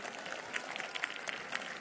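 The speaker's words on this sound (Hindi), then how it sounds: "जो ताली मेरे खुदा के लिए बजेगी" Church congregation clapping during a morning service, a dense, steady patter of many hands with small louder bursts, fairly close and continuous throughout.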